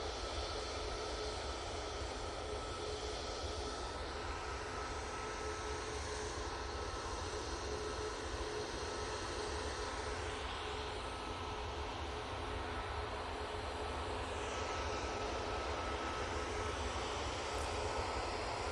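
A TUI airliner arriving after a long-haul flight, its jet engines a steady distant roar with broadband rumble and faint whine, constant and unbroken throughout.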